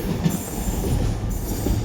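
Loud, close rumble of a class 66 diesel locomotive and its wagons rolling through Newport station, a steady heavy roar with wheel and rail noise and faint squeal.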